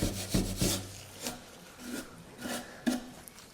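Steel wool scraping chunks of old finish off wood, a few short rough rubbing strokes at an uneven pace, close and fairly quiet.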